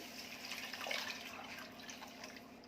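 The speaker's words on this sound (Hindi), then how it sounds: "अब इसमें 3 कप पानी डालेंगे।" Three cups of water are poured into a pot of mushroom soup, giving a continuous close splashing and gurgling pour that rises slightly midway and then eases off.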